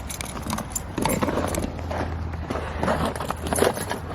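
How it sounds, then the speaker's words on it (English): Car keys jangle as they are dropped into a purse outdoors beside a parked car, producing a few close, light metallic rattles over low background rumble. "I just put my keys in my purse and didn't even lock my car."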